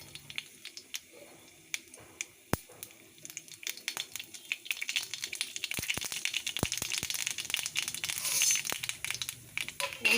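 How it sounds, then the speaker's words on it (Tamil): Mustard seeds go into a spoonful of hot oil for tempering carrot poriyal, building from scattered sharp pops into dense, close crackling and sizzling that grows louder toward the end. "கடுகு போடுறேன்."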